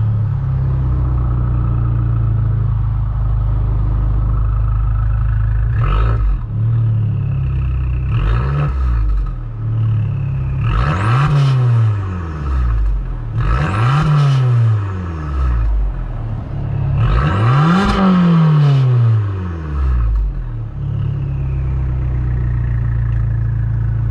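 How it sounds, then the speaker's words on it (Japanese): An Abarth 595 Competizione small sports car engine idles, then revs up sharply several times in quick bursts, each rev rising and falling, close and loud. "では最後エンジンを聞いてスタートしていきましょう。"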